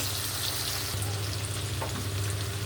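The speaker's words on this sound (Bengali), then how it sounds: "পেঁয়াজ কুচনো দিয়ে একটু লাল লাল করে ভাজতে হবে" Chopped onions frying in a pan with whole spices like black pepper, cardamom, cloves and cinnamon, a steady close sizzle with a brief soft stir, no talking.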